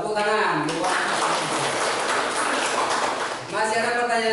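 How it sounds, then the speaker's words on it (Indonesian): A classroom of students in an Islamic studies lesson claps together, a dense burst of applause lasting a few seconds before fading back to the teacher's voice. "Oke, tepuk tangan."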